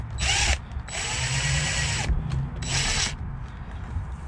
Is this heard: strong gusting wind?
no